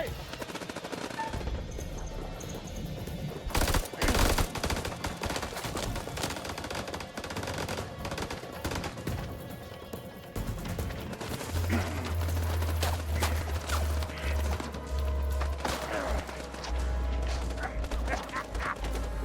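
Automatic gunfire bursts from the video game House of Ashes, a dense, loud clatter of shots over a constant din, with a heavy low rumble building in the second half.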